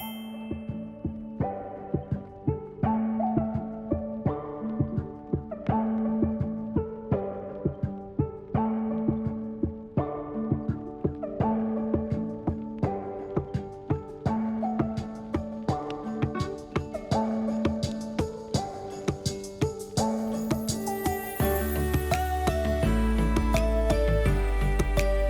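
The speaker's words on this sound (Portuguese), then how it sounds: "eu vou passar normal aqui a costura no meu viés" A sewing machine runs steady stitches along bias binding on a fabric tent-style cover for a baby car seat. The close, even, rhythmic pulsing over a motor hum continues without talk.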